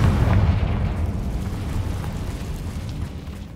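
A Confringo fire spell exploding in the video game Hogwarts Legacy, a loud, deep boom that rumbles heavily at first and then slowly dies away over a few seconds.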